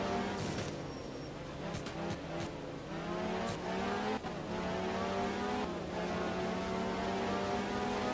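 A rally car in the racing game Art of Rally roars continuously near and loud, its engine pitch rising and falling through gear changes, with brief tire-on-surface scrapes and skids along the way.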